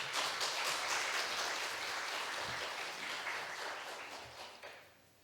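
A church congregation gives warm, sustained applause to welcome a visiting pastor, a dense wash of many hands clapping that holds steady for several seconds before tapering off.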